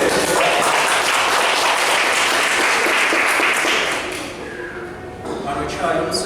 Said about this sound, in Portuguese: 7 fatos de Wagner, um aplauso para ele.